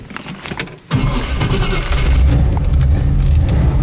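A 1966 Chevelle Malibu 136-series V8 with tri-power carburetion cranks and fires up after a quiet moment, settling into a loud, steady, rumbling idle close to the listener.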